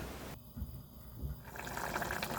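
Water gushes into a cooking pot on the stove, a steady full pour lasting about a second before giving way to bubbling, sizzling pan noise nearby.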